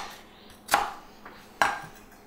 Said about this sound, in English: And we'll just start chopping away.